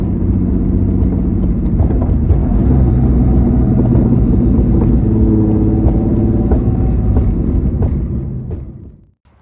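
A turbocharged BMW E36 engine accelerating hard under boost, a loud, steady, close rumbling drone with a high turbo whine laid over it, fading out at the end.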